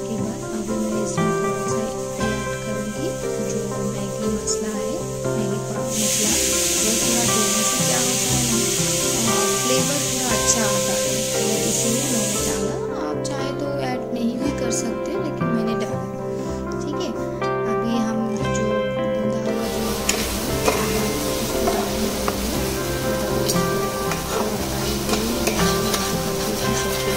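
Tomatoes frying in a pan while being stirred make a continuous sizzling hiss with occasional scraping. A voice talks over it throughout, and a steady tonal background runs underneath.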